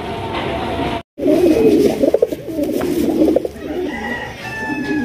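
Sky-blue Rasgolla pigeons coo in low, throaty bursts over steady background noise, with a short gap of silence near the start.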